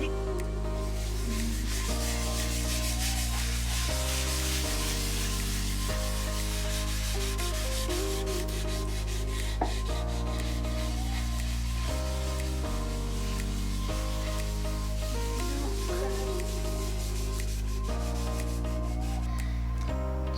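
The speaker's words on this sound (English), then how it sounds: "So now the wood has been sanded" Steady abrasive rubbing of sanding on a solid wood butcher-block countertop in a van build, a continuous scratchy hiss running throughout beneath loud background music with sustained chords.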